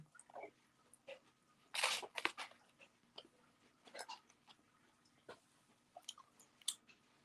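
Steak salad is chewed close up in faint, quiet crunches and bites with short pauses between them.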